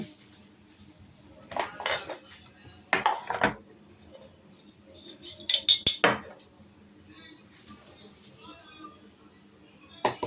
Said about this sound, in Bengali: কড়াটা ধুয়ে নিয়েছি একটু মুছে নিয়ে